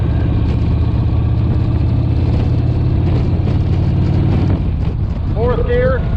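A motorcycle engine pulls hard through the gears on a ride around Lake Hollingsworth, a loud, steady rumbling drone with wind noise; someone talks over it briefly near the end.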